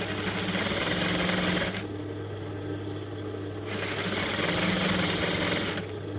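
A sewing machine stitches fabric for a smocking dress in two steady, loud bursts of rapid needle clatter, separated by a short pause near the middle, with a constant motor hum running underneath throughout.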